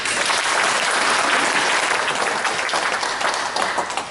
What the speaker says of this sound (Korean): 우리 태영호 공사님이 나오실 때 큰 박수로 답해 주십니다